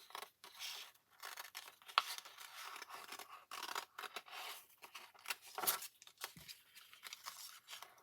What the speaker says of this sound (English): So I'm just going to cut this piece out.